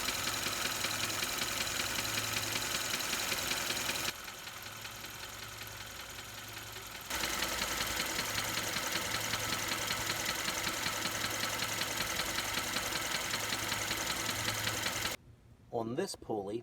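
A running car engine's alternator heard through a mechanic's stethoscope pressed on the casing: a dense, steady mechanical whir and knock. It softens for a few seconds midway, then ends abruptly with handling noise.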